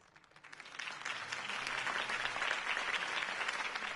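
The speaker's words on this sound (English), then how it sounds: "could have heard that applause" A crowd's applause swells in after a brief moment and continues steadily, a dense wash of many hands clapping at moderate distance.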